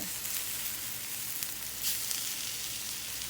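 Summer squash scramble sizzles and fries steadily in a pan while browning, a close, even hiss with faint crackles throughout and no talking.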